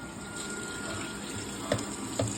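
Water runs steadily from a household tap in a continuous hiss, with a couple of brief splashes or clunks near the end.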